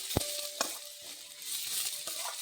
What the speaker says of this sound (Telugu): ఇవి కూడా కొంచెం ఫ్రై కావాలి, మరీ ఎక్కువద్దు, కొద్దిగా.